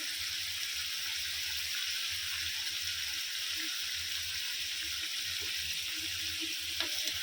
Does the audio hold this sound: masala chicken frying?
yes